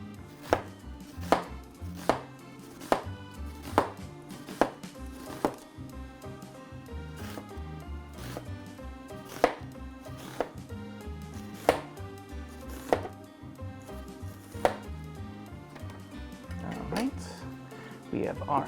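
A knife slicing a half onion on a cutting board, producing a quick run of regular chops followed by steadier, spaced cuts, close and crisp under a background hum.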